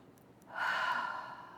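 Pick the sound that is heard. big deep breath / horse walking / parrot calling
big deep breath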